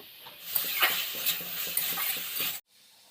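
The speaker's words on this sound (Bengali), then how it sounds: "লবণটাও দিয়ে একটু ভালো করে নেড়ে নেব" Potatoes, onion, spices and salt are stirred in a frying pan, a close, rhythmic scrape of a spoon against the pan over a low sizzle that stops abruptly.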